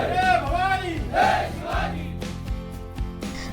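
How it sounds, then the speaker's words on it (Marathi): Shiv Sena and BJP workers in Kudal shout together in a loud, ragged celebration, with voices rising and falling and some drawn-out calls standing out from the crowd. "महायुतीच्या या विजयामुळे कुडाळमध्ये शिवसेना भाजप कार्यकर्त्यांनी एकच जल्लोष केला"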